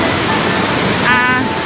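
A river in the Royal Gorge rushes with powerful, steady broadband roar, loud and close, with a faint whistle-like tone briefly rising over the water near the end.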